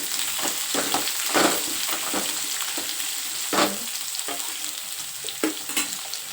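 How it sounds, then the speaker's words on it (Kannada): Onions fry in a hot oil tempering with green chillies and curry leaves while cooking a beetroot palya. A steady sizzle runs throughout, broken by repeated scraping stirs, close and continuous. "ಈರುಳ್ಳಿನ ಚೆನ್ನಾಗಿ ಫ್ರೈ ಮಾಡ್ಕೋಬೇಕು ಒಗ್ಗರಣೆಯಲ್ಲಿ"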